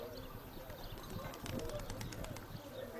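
Pigeons in Veria, Greece, cooing softly at a distance amid faint chirps and background murmur, with a brief flutter of wings partway through.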